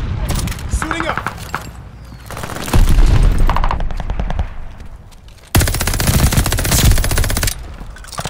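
Rapid automatic gunfire in the Call of Duty: Vanguard shooter, loud sustained bursts with a sharp renewed volley partway through, mixed with game voices and battle noise.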